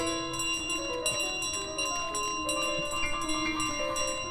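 In Untitled Goose Game, a bell's sustained ringing tones hang over a busy mix of in-game ambience and light tapping sounds, steady and moderately loud for a few seconds.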